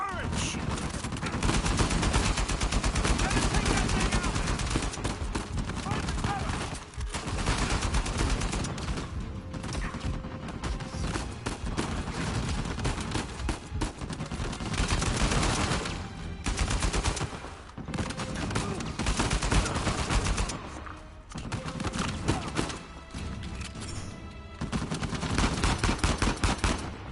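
Turret gunfire in the video game Uncharted 4 comes as loud, sustained bursts of rapid automatic shots with brief pauses between volleys over nearly half a minute, and voices occasionally cut in.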